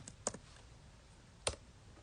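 A computer keyboard gives two quiet, isolated keystroke clicks over a faint steady room hiss, with no talking.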